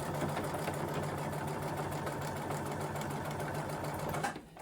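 A sewing machine runs a basting stitch down the edges of fabric, a fast, even mechanical whirr and rattle held steady for several seconds before stopping abruptly.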